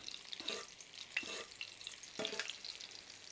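Camembert cordon bleu frying in a pan while hot oil is spooned over it, a steady sizzle with a few louder splashing bursts from the basting, close and without voices.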